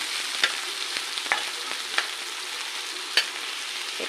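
Soft steady sizzling of tomatoes frying in a pan, with a few light clicks and taps of a utensil, close and quiet.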